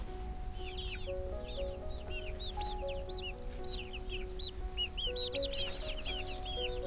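Chickens cluck and chirp repeatedly while being fed blueberries, a steady stream of short, moderately close calls over a low background hum.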